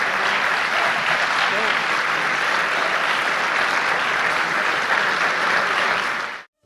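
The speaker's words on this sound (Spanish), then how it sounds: "Denle un aplauso a su Señor." A church congregation applauds for their Lord during a Spanish-language Christian service, a steady, dense wash of clapping that holds at full strength for about six seconds and then stops abruptly.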